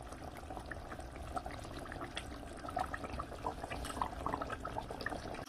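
Water at a vigorous boil in a pot over a high gas flame, cooking egg and banana blossom, a steady bubbling roar with small pops, moderately quiet and continuous throughout without talk.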